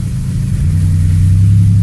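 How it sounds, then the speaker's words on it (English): Van engine with an exhaust fault runs while driving, a loud, close, rumbling drone that swells slightly as it goes, with no talking. "you can tell I got an exhaust problem"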